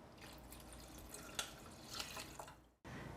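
Vinegar is poured into a cooking pot of beets, a soft trickling splash with a few drips and faint kitchen background, ending abruptly.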